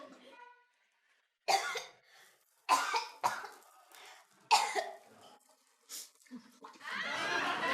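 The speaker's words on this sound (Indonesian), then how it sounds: "Asapnya bikin saya batuk." Several sharp coughs and throat clearing from smoke come in bursts with pauses between, fairly close, followed by a rough breathy exhale.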